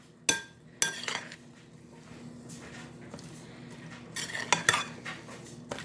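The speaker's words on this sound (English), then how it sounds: "we're going to stir all these to combine" A spoon stirs cowboy caviar ingredients together in a bowl, making close clinks and scrapes in uneven bursts, with quieter soft rustling in between and no talk.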